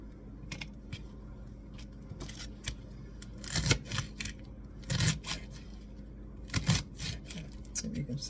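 Knife chopping through a rolled stack of leafy greens on a cutting board, a series of sharp thuds spaced every second or so, with a person talking throughout.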